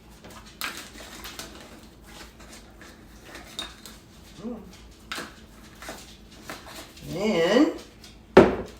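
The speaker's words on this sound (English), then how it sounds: "So I take a tablespoon of instant coffee." A tablespoon clinks and scrapes against a mug while scooping instant coffee granules, with several light taps and a louder clatter near the end, mixed with a person talking.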